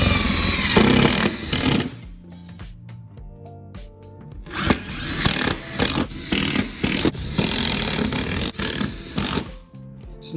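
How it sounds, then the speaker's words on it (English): Pergola post base being screwed down with an 8mm hex bit on a power driver, loud bursts of whirring and ratcheting separated by short pauses, close and dominant. "you simply screw the post base down"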